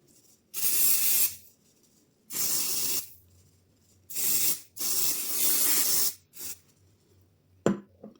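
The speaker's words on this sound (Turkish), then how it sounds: "Bir sabitleme spreyi sıkacağım." Hair setting spray hisses from an aerosol can in four long bursts and a short final puff, loud and close, with quiet pauses between and no talking.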